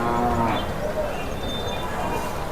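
Cattle at a livestock market in Krishnagiri, a loud low moo over a dense crowd murmur and general market bustle.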